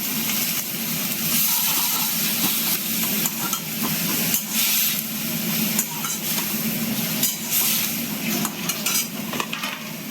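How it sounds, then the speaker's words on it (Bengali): Water poured into a pot of potatoes and pumpkin set to boil, a steady rushing, hissing pour close by with occasional metallic clinks of the pot. "অল্প একটু জল দিয়ে দেবো যাতে ভালো সিদ্ধ হয়"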